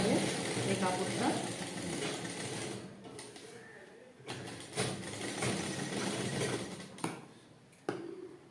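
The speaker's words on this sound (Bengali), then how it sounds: "তাহলে এটাও এইভাবে সেলাই করে নিতে হবে এই কাপড়টা।" A sewing machine stitches blouse fabric with lining, with a steady mechanical whir that stops and restarts several times. A voice talks quietly in the background.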